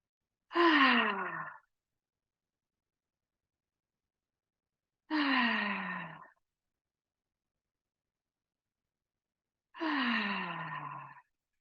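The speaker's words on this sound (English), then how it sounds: "you can begin with some nice cleansing breaths" Three deep, slow exhalations spaced evenly apart, each a soft, breathy sigh heard up close against silence, as cleansing breaths during a yoga session.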